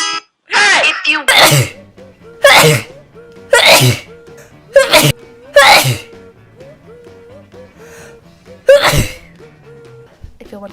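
Repeated allergy sneezes, about half a dozen loud, sharp bursts spaced a second or so apart, with gasping inhales and a few soft vocal sounds between them.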